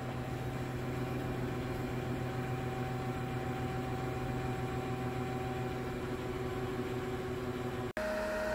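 A Coleman oil stove burning waste oil and diesel gives off a steady, even roar with a low hum, broken by a brief click near the end.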